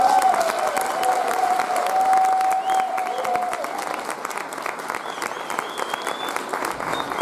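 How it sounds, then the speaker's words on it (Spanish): Church congregation applauding steadily at a Christmas service, a broad dense clapping wash that holds at even loudness throughout with a sustained tone fading in the background early on. "quiero que les den un fuerte aplauso."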